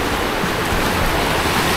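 Continuous broadband rush of a river flowing near Curug Bangkong waterfall in Kuningan, a steady close wash of water with no pauses and no voices.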